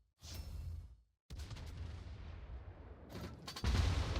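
Main-gun salvos from a warship in World of Warships, heard as distant, faint booming blasts separated by short gaps, the last burst heavier and louder.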